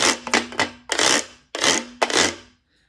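A ridged metal washboard is rubbed in about six rasping strokes, some short and quick and others longer and sustained, loud and close, ending in silence.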